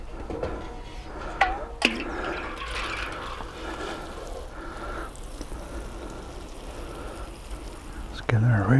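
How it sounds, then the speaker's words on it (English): Water pours from a watering can onto an allotment herb bed in a steady, close splashing gush, with a few knocks of the can and a voice speaking faintly nearby. "I'll probably end up putting about 10 can loads of water on this by the time I've gone."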